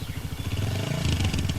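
A new motorcycle pulls away with a low, steady pulsing engine rumble, moderately loud and close, with no talking.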